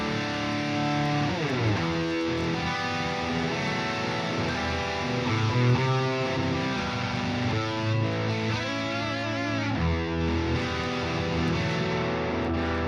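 Electric guitar played through an amp simulator plugin with a vintage cabinet and a distortion pedal engaged, heavily distorted chords and riffs ringing continuously, loud and upfront with no talking.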